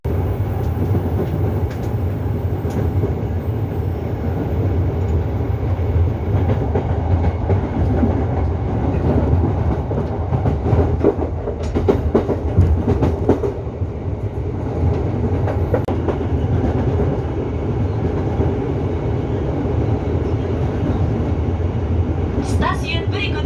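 Jakarta electric commuter train running steadily, with a continuous loud rumble and rattle of carriages, rhythmic track clatter, brief squeals, and voices heard in the carriage.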